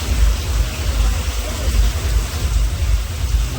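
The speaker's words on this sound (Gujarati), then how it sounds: "વરસાદ ચાલુ થઈ ગયો" Heavy rain pours steadily, a dense low rumbling wash of drops on surfaces, continuous and loud with no voices.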